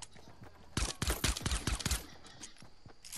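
Fortnite gunfire rings out in a rapid burst of about a dozen sharp, loud shots clustered together, then trails off into a few fainter, scattered pops.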